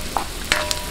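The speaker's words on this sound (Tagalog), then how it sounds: "lagay na po natin ang sibuyas. Ayan. Palambutin lang po natin mabuti itong sibuyas" Onions fry in a pan for a Filipino-style seafood paella, a steady close sizzle with a few light crackles and pops breaking through.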